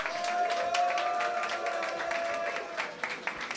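Audience applause for the organizers at the Mister Rubber France 2024 election, a steady wash of clapping from a crowd that holds for several seconds and thins at the end, with a faint tonal hum beneath.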